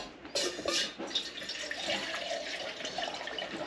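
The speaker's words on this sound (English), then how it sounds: "Put a little bit of water in it." Water poured from a container into a hot pan for cooking shrimp, a steady broadband running splash close by that swells at the start and continues evenly for several seconds, with no talking.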